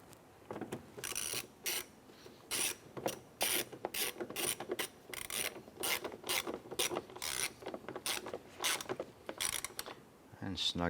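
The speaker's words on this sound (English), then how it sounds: "Going to install our screw here." A screw is driven into the left front exterior door handle of a 2006-2013 Chevrolet Impala, rapid rhythmic ratcheting clicks in quick close bursts with short pauses.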